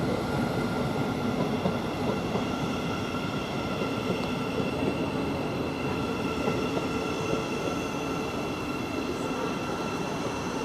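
A train rumbles steadily through Stevenage station on the East Coast Main Line, wheels clattering on the rails with a continuous roar throughout, close and loud.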